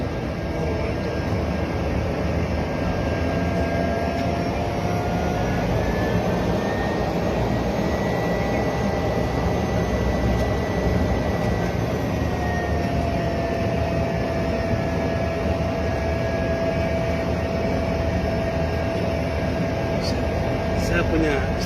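Airplane landing at Sentani, heard from inside the cabin as a loud, continuous roar of engine and airflow that holds steady throughout, with faint tonal whines drifting above the rumble.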